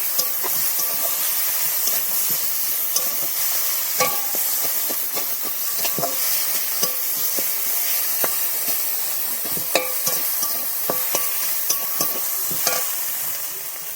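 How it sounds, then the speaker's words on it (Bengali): Chopped tomato and spice paste sautéing in a pan for a taro-leaf and small-shrimp dish: a steady, loud sizzle with frequent scraping stir clicks, close up and without talk. "এরপরে কুচনো টমেটো আর ঘাঁটা মশলার পেস্টটা দিয়ে দেবো, ভালো করে কষিয়ে নেব।"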